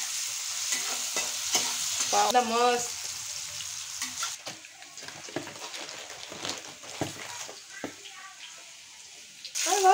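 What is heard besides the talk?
vegetables with capsicum frying in a pan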